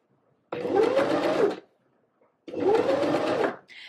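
A sewing machine stitches darts and seam allowances on a McCall's skirt in two steady whirring bursts, each about a second long, separated by a short pause.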